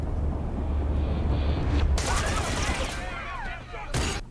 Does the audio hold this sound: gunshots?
yes